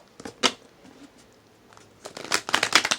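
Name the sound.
tarot cards being shuffled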